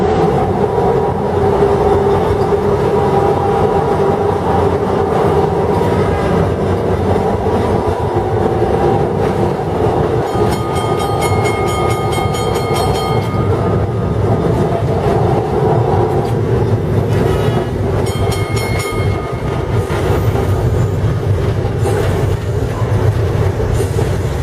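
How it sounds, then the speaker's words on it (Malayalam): An electric tram runs through Kolkata, its steady rolling rumble loud and continuous, with metallic wheel squeals and clatter rising midway. "1902 മുതൽ ഇലക്ട്രിക് ട്രാമുകളാണ് കൽക്കട്ടയിൽ ഓടുന്നത്."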